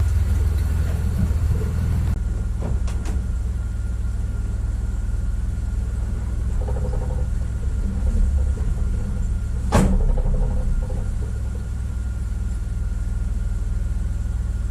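A 1974 Ford Highboy Dentside 4x4 with an FE engine and a leaking carburetor accelerator pump gasket runs after a cold start in -20 degree cold, a steady loud low rumble with occasional clicks and knocks.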